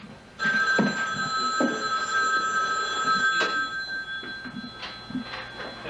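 Telephone bell ringing in a 1983 room during psychokinesis experiments, a loud sustained metallic trill that goes on for several seconds with faint voices and knocking sounds underneath.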